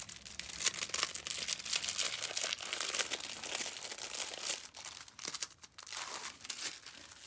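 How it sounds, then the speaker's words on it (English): Tissue paper, including an ombre sheet, crinkles and rustles close by as it is handled and unfolded, a continuous run of crisp, uneven crackles with occasional sharper crunches. "So of course I had to buy some tissue paper that I thought might work."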